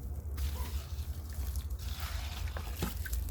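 Water gently trickling and sloshing in a bucket holding submerged sugarcane stalks, soft and close over a low background rumble, with a few small drips and splashes.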